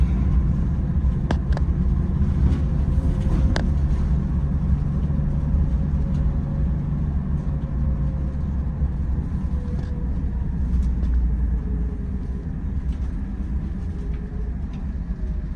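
Prevost coach bus downshifting from second into first gear, a steady loud low engine rumble and drivetrain drone throughout, the pitch easing slightly partway through, with no talk.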